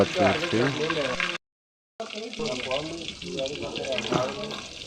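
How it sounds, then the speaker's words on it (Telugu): Green chillies fry in hot oil with a steady sizzle close by, broken once by a short silent gap, while a person talks over much of it. "పచ్చిమిర్చి వేగిన తర్వాత బాగా నూనెలో వేయించుకోవాలి"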